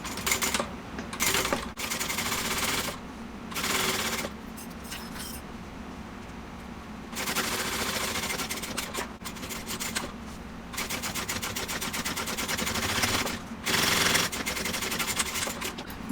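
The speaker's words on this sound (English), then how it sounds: "So we're top stitching 1/8 of an inch from the top edge and then 1/8 of an inch closest to the zipper" A sewing machine top stitching along the edge of a bag runs in several bursts of rapid, even mechanical clatter, separated by brief pauses.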